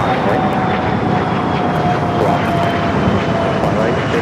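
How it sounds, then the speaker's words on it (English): An Air Tahiti Nui Dreamliner at LAX airport produces a continuous, broad roar of jet engine noise at a steady level throughout, with no distinct events standing out. "That Air Tahiti Nui Dreamliner heading up to the north side."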